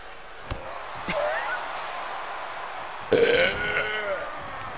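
Someone lets out a burp, with a loud, throaty belch near the end after a couple of short thumps, over a steady background hiss.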